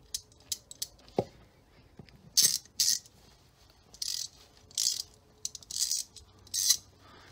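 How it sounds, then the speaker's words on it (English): A rebuilt ratchet clicking in several short bursts of fast metallic ratcheting, close and crisp, with a few isolated clicks in between and quiet pauses. "And the ratchet works again."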